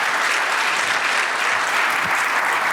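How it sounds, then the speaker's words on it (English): A conference audience at a space acquisitions summit applauds a panel with dense, sustained clapping that fills the whole short stretch, with no talk over it. "how about a round of applause for this panel"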